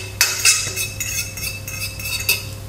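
Grated potato and onion preparation with spring onion and garlic being mixed, a utensil scraping and clinking against the bowl in several sharp, close strikes over a low steady hum.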